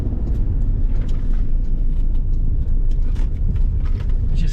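A Land Rover diesel engine fitted with new injectors runs steadily, giving a loud, continuous low rumble with a clattering diesel texture, heard close and alone.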